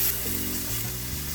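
Aubergines frying in a pan give a brief, steady sizzle with a low background hum and no talking.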